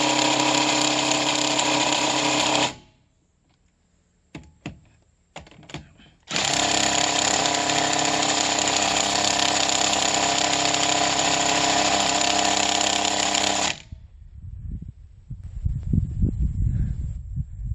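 Earthquake 1,200 foot-pound impact wrench running, two long loud hammering bursts split by a pause with a few small clanks, followed by fainter rattling and knocking.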